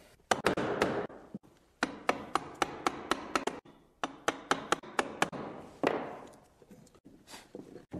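Sharp, repeated mallet blows on a chisel cutting out the end of a stopped dado in wood for a staircase, struck in quick irregular bursts with short pauses between them.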